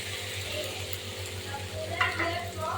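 Crab roe frying in a pan as it is stirred, giving a steady close sizzle with scraping utensil noises and a brief louder clatter near the end.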